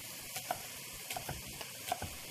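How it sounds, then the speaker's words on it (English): Turkey sloppy joe mixture sizzles in a pan with a steady hiss, broken by a handful of soft scraping stirs spaced irregularly, close and fairly quiet. "I'm going to stir that in"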